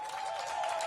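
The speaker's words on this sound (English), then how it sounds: "I want to give all the boys and girls from Eaton a big round of applause." Applause from an audience at a ribbon cutting for the newly renovated Eaton Elementary School, a steady wash of many hands clapping, moderately loud and continuous over a brief stretch.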